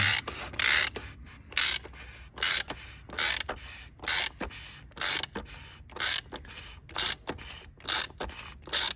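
A ratchet tightens the oil filter on a 2014 Volkswagen Passat TDI 2.0 in a steady series of about a dozen close, brisk clicking bursts separated by short pauses, with no talk.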